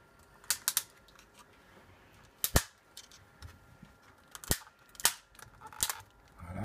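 Flat screwdriver prying clips loose on a Toshiba R830 laptop keyboard: a handful of sharp, separate plastic clacks and snaps spaced a second or two apart, close and fairly quiet, with no talking.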